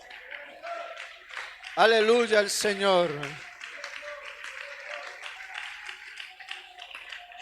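A church congregation claps steadily in a soft, dense patter beneath a man who loudly proclaims praise, with the applause continuing after his voice drops away.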